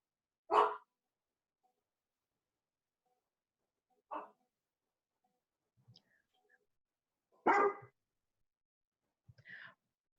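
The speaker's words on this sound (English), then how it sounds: "I'm going to keep myself muted while I take care of my dog who keeps barking" A dog barks in isolated bursts, four separate loud barks spaced a few seconds apart with quiet gaps, heard close indoors during a home Zoom session.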